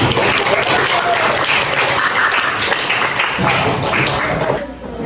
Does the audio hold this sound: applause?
yes